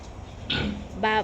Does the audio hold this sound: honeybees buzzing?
no